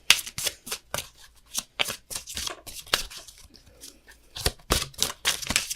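Tarot cards being shuffled and riffled by hand, a quick run of crisp papery flicks and snaps with short pauses, close and clear with no talking.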